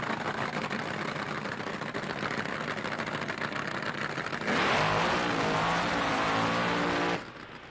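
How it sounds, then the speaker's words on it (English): Top Fuel dragsters roar at the starting line during round two of Top Fuel Eliminator at the 1982 NHRA U.S. Nationals, a sustained loud engine drone that surges into a harsher blast for a few seconds before easing. "Top Fuel Eliminator, round number 2 is at the starting line."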